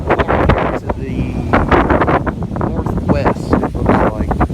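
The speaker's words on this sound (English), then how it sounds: "if it sounds windy, it's because it is" Gusty wind blows across an open cornfield before a storm, buffeting the microphone with loud rumbling bursts while a person talks throughout.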